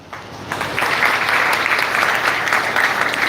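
Students at a B.Tech passing ceremony at a maritime academy break into dense, sustained applause that swells after a brief quieter start and holds steady, with a few faint cheers.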